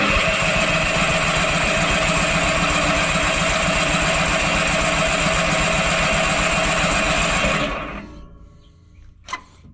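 A Bolens QT16 lawn tractor, over ten years old, cranks over with a loud, rhythmic pulsing churn for about eight seconds, then stops, leaving a near-quiet tail with one brief clunk.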